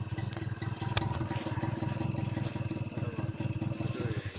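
A TVS XL moped engine runs steadily up close, a loud, continuous low putter with a fast, even pulse, light mechanical clatter and rattle throughout, heard alone without talk.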